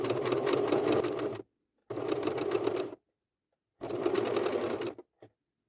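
A sewing machine stitches bias binding onto thick tweed in three separate runs of steady whirring, each lasting about a second or more, with silent pauses between them and a brief final tap.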